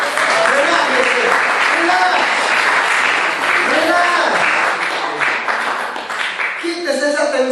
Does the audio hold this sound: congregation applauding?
yes